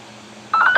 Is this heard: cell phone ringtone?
yes